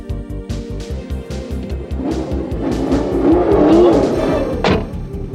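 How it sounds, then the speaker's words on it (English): A BMW M6 coupe drives fast on a race track, its engine loud and close, rising in pitch as it revs through a rhythmic gear pattern, with a brief squeal near the end. "we are in a very powerful car and it's quite dangerous here in Puerto"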